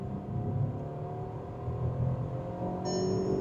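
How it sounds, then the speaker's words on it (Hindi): Skoda Kylaq engine revving hard through a full-throttle 0 to 100 run, a steady rising drone close to the mic with a faint whine, heard alone without talk. "चलिए एक बार मैं आपको 0 to 100 करके दिखाता हूँ।"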